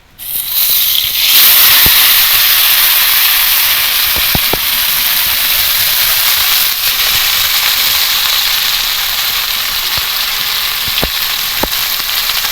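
Fish sizzles loudly in hot white and mustard oil in a nonstick pan, a steady dense frying hiss with occasional pops and clicks, close up and continuous.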